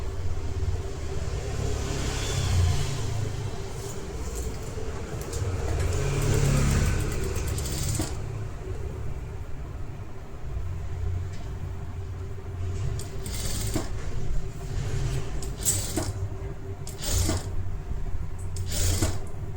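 Sewing machine motor stitches a blouse, a steady close mechanical hum and whir running continuously with short bursts and pauses in the stitching.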